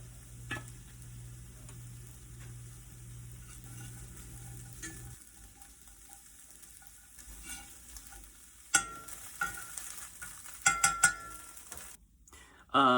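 Sausage and half a chopped onion fry in a pan, giving a faint, low sizzle with occasional clinks and scrapes of a fork mashing the meat, getting busier toward the end.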